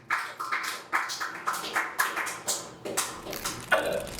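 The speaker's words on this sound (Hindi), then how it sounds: "एक बार जोरदार तालियां हो जाए पवन भाई के लिए" An audience claps for Pawan in steady, rhythmic bursts, roughly two beats per second, moderately loud and close, with a few sharper claps near the end.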